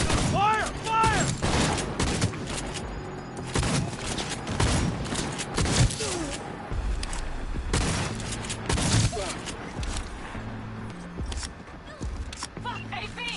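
Bursts of gunfire crack and rattle in a Cyberpunk 2077 firefight, fast volleys of loud shots with booms and mechanical clatter, interleaved with shouting voices.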